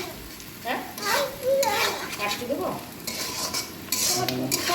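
Turmeric, cumin, salt and sugar fry with vegetables in a pan for chilli chicken and fried rice, giving a steady sizzle with stirring scrapes. Someone talks over the frying.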